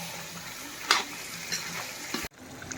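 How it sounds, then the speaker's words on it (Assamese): Meat fries in oil with cumin powder and chili, a steady, close sizzle with a few scraping stirs of a utensil, ending in a sudden brief cut before the frying resumes. "একদম পূৰা ফ্ৰাই কৰি আছোঁ মাংসটো মই"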